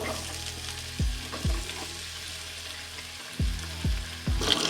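Chopped onion hits hot oil in a pan and sizzles steadily, with several sharp scraping stirs of a spatula at a slow, uneven rhythm, close and moderately loud, with no talking.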